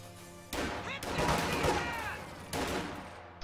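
Light machine guns firing in a Company of Heroes match, engaging STG-upgraded Oversoldaten: loud sustained bursts of rapid automatic fire starting abruptly, with a second burst later, amid dense battle noise and overlapping gunfire.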